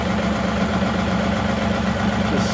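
A John Deere 2038R tractor engine idles with a loud, steady, close rumble.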